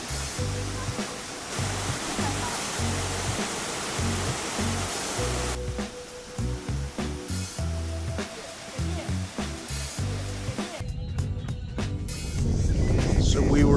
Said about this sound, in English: And here we are, the Nan-An Falls,